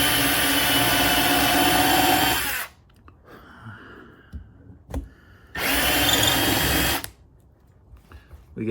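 A power drill countersinks a pilot hole in a wooden part, running in two loud, steady bursts of whirring separated by a quieter gap with faint handling noises and clicks.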